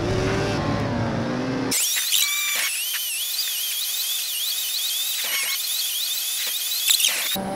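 A race car engine in the PlayStation 2 racing game Total Immersion Racing screams at high revs, its pitch climbing and dropping with gear shifts, loud and close throughout.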